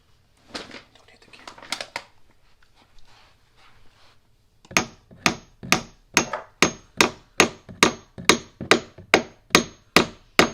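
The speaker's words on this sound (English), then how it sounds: "then tap it with a hammer to seat it" A hammer taps a door hinge pin down to seat it while fixing a squeaking door. Rustling and handling come first, then about fourteen sharp, evenly spaced metallic taps ring out close by.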